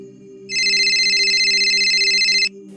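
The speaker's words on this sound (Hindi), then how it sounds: "नहीं, कंपनी का फोन आ रहा है।" A telephone ringtone plays for about two seconds, a loud, steady electronic trill pulsing rapidly over a low background hum.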